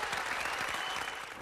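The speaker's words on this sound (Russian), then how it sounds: "ваши аплодисменты!" Audience applause at a laser harp show, a short stretch of steady, moderately faint crowd clapping with no clear break.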